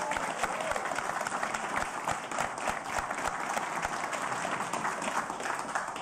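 A town hall crowd claps steadily as a show of support in an audience poll, dense continuous applause from start to finish with a few faint voices mixed in.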